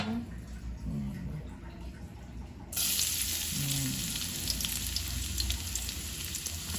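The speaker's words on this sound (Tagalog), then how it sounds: "Then, magigisa na tayo. Magigisa na po ulit tayo." Pork and garlic sauté in a hot pan, a quiet steady sizzle that jumps louder partway through as more goes in, with faint stirring and a voice briefly underneath.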